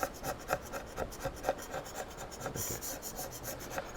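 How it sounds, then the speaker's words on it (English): Rhythmic scraping strokes stripping old finish off wood, a rasping sound repeating steadily, close and fairly quiet, with no voices. "the reason I'm scraping this off and not sanding it off"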